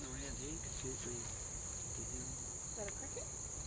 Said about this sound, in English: They're all crickets, yeah.